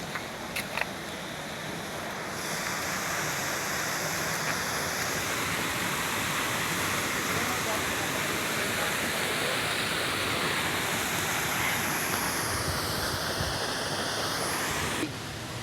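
Ragatan Falls, a waterfall over layered adobe rock, roars with a loud, steady, dense rush of falling water that continues unbroken throughout.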